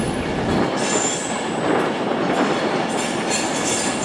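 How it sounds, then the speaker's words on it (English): An Avanti West Coast train pulls out of Edinburgh Waverley with a steady rumble, rolling wheel noise and brief squeals at a moderate level, and no one talks. "there goes 39124 with the 12:52 Avanti West Coast service to London Euston via Preston and Birmingham New Street"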